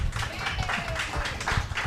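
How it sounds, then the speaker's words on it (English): Audience applause for Yigal Erlich at an Israeli innovation conference: a steady wash of many hands clapping, dense and continuous throughout, fairly close and even in level with no talk over it. "So a very big round of applause for Yigal Erlich."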